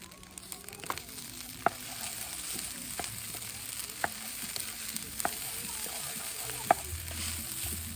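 Fried rice sizzling and crackling in a pan at a lakeside campsite as it is stirred, a constant frying hiss broken by sharp scraping clicks from the utensil at irregular intervals, close and moderately loud.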